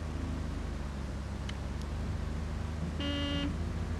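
A truck horn honks once briefly in the farming game Pure Farming 2018, a short buzzy tone over a steady engine drone and road noise.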